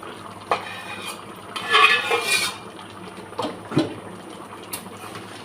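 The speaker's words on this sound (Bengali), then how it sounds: "এখন মাংসটা নাড়াচাড়া করবো।" Goat meat being stirred in a cooking pot gives a few scattered metallic scrapes and clinks of a utensil against the pot, with one longer scraping burst, heard close and fairly quiet with no talking.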